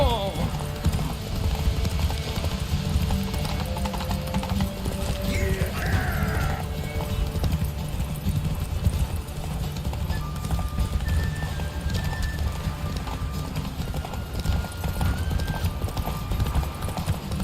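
Horse hooves galloping in The Witcher 3: Wild Hunt, a steady rapid clip-clop running throughout over game music, with a brief whinny and mechanical clicks; someone speaks a few words over it.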